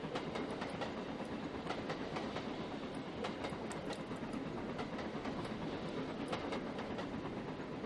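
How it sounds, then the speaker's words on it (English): Steam locomotive in the Trainz railway simulator, an LMS Coronation Class engine, rolling steadily with a continuous rumble and faint rhythmic chuffing and rail clatter throughout, no talking. "Now we're just literally chuffing along."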